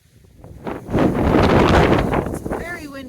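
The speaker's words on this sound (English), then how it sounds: "It's very windy still." Strong wind gusting across an open summit of Little Hump Mountain on the Appalachian Trail, a loud roaring rush buffeting the microphone, swelling and holding steady for a few seconds.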